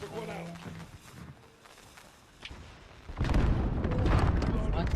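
Precision airstrike explosions in Call of Duty: Modern Warfare erupt as heavy, rumbling booms that build into a sustained roar in the latter half, following quieter game sounds.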